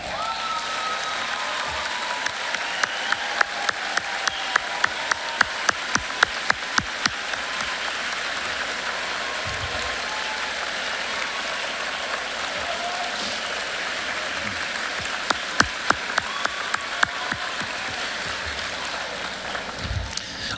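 Sustained applause at a 2025 Auburn High School graduation ceremony, honoring armed forces veterans in the audience, a dense steady crowd clapping that carries on for about twenty seconds with sharper individual claps standing out.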